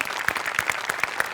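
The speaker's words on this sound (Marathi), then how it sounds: "आर्ट डिपार्टमेंटसाठी एकदा जोरदार टाळ्या." Audience applause at a Marathi comedy show taping, a steady bed of many hands clapping with sharper claps standing out in quick succession throughout, loud and close.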